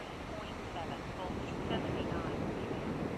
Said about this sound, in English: Jeez, it's really windy